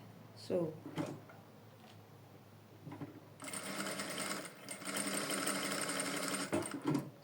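A sewing machine stitches a seam. After a few quiet seconds of handling clicks, it breaks into a steady, close, rattling whir that runs to the end.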